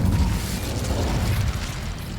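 The Incendio fire spell cast in Hogwarts Legacy, a loud continuous whooshing rush of flame with a low rumbling body and crackling bursts, steady throughout.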